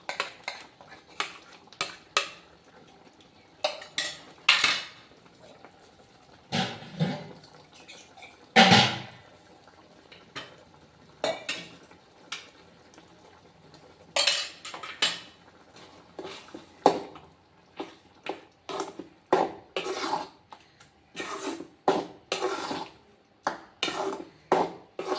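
Coconut paste scraped from a utensil into a pot of bottle gourd kootu, with repeated close metallic clinks and scrapes of a spoon against the vessel at an irregular rhythm, plus some stirring, and no voices.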